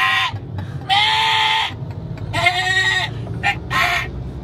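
A person imitates a billy goat, giving a series of loud, nasal bleats in short bursts with brief pauses between, close to the microphone.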